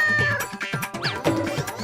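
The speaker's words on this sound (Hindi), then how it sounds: "कहाँ से आ रही थी बिल्ली की आवाज?" A cartoon cat meows loudly and up close, several bending, wavering cries in quick succession with no voices over them.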